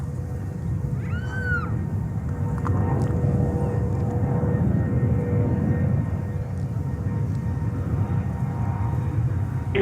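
A British Airways heavy jet, Flight 4 from London Heathrow, arrives on runway 22 left at JFK in New York, heard as a steady, broad low rumble that holds through the whole stretch with no talk.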